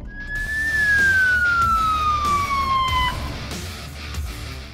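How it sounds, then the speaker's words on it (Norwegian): A Norwegian emergency vehicle on a call-out lets out one loud siren sweep that slides downward and cuts off, leaving traffic rumble behind. "Utrykning."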